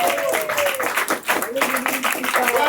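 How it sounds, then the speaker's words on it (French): An audience applauds a young performer after her song, mixed clapping with voices talking and cheering over it, fairly loud and continuous with a brief dip midway. "on l'applaudit, on l'applaudit"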